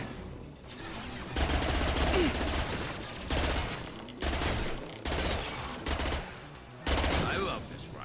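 Rifle fire in the game Mass Effect 2 comes in five loud, sustained bursts separated by short lulls, up close and dense.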